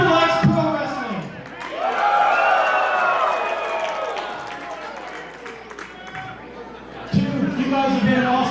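Pro wrestling crowd cheering and applauding at an indoor show, a loud swelling roar of cheers and clapping that rises, fades, then surges again near the end, mixed with an amplified voice talking over it.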